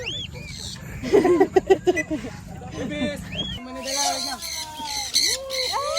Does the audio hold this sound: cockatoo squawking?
yes